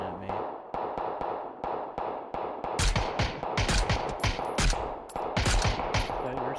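Suppressed gunfire in PUBG: rapid, muffled shots in short rhythmic bursts, growing denser and louder midway with sharp cracks mixed in, without talk.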